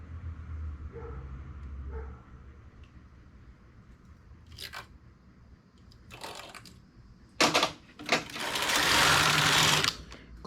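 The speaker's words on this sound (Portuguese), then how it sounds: "Continuo tecendo até eu terminar o comprimento total da minha luva" A knitting machine works a ribbed glove with fingers, carriage passes sounding as bursts of mechanical clatter and whirring that build to a longer, louder run near the end, with quieter handling noise between passes.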